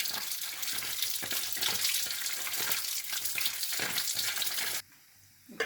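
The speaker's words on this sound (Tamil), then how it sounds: "இதை நல்லா பைப் தண்ணியில் நல்லா அலசிடணும்." Tap water pours steadily over soya chunks being rinsed in a kitchen sink, a dense hiss that cuts off briefly near the end and then starts again.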